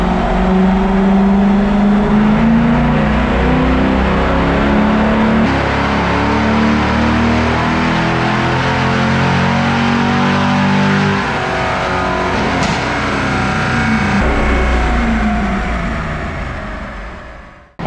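A C5 Corvette with traction control off accelerates hard through a third gear pull, the engine note climbing steadily in pitch, loud and close throughout before easing off at the end.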